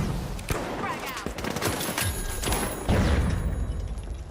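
Shotgun blasts from the online shooter The Finals, several loud booming shots scattered through dense game action with continuous effects and background noise.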